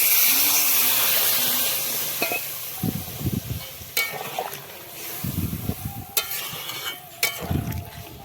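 Water poured into a pan of frying small potatoes for aloo dum sets off a hissing, steaming sizzle, followed by bursts of bubbling and several sharp clatters of stirring, close and fairly loud.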